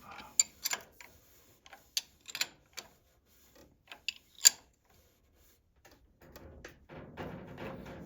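A nut is tightened on the timer of a 1927 Ford Model TT truck, producing sparse, close metallic ticks and clicks at uneven intervals, quiet overall. Some low rustling follows near the end.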